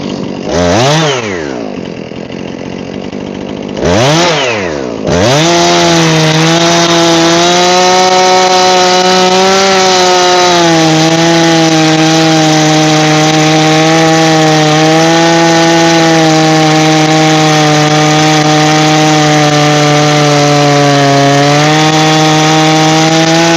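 A chainsaw cuts logs for firewood. It revs twice briefly, then settles into a loud, sustained close-up whine that holds steady throughout.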